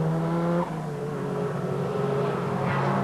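BMW touring cars race through a right-hander and a left-hander at a 1988 British Touring Car Championship round, engines droning loudly and continuously with shifting pitch as the pack passes.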